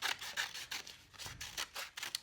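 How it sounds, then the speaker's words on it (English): Scissors cut a tree shape out of magazine paper, quick close snips and rustling strokes repeating in a loose rhythm of roughly six cuts. "So if you did have scissors to hand, this is where you can cut out"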